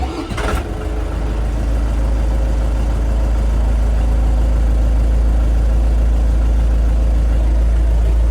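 A 2025 Scout mini tractor with a forty-horsepower engine cranks briefly, catches and settles into a loud, steady, low idle that carries on without a break.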